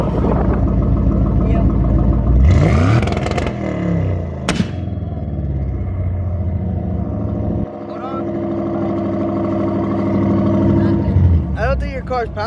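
A Ford Mustang engine roars loudly and close, rising in pitch as it revs hard, then holding a heavy, steady drone with another surge near the end. People talk over the engine noise.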